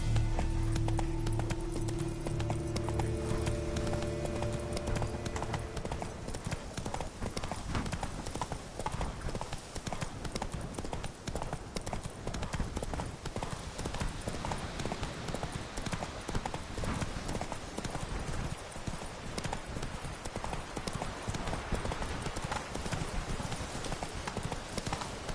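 Hooves drum in a fast, unbroken gallop as Roach runs in The Witcher 3: Wild Hunt, the clip-clop rhythm steady and close for the whole stretch, with music fading out early.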